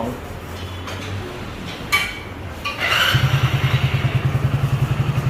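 After a few clanks, a Hero Splendor BS6 motorcycle engine, repaired after seizing, starts and idles with a loud, steady, thumping pulse close by.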